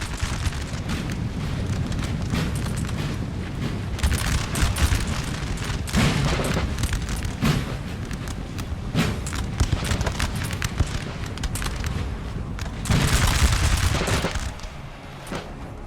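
Musket volleys from opposing firing lines in Napoleon: Total War, with repeated crackling bursts and booming shots layered over a constant battlefield roar, loud and sustained throughout.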